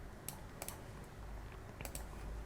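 Computer keyboard keys clicking during product page editing: a few sharp, isolated taps spaced apart, close and quiet over a soft background hum.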